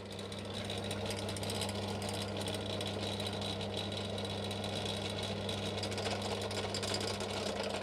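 A drill bores into an aluminum E3D V6 3D-printer heater block, a steady faint motor whine with a constant low hum and light grinding texture, running continuously without pause.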